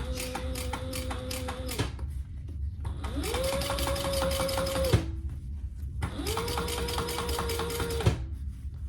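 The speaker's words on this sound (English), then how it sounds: "we're just going to top stitch all the way around" A sewing machine top stitches around a fabric pouch at a long stitch length with rainbow thread, running in three loud, steady bursts separated by brief pauses.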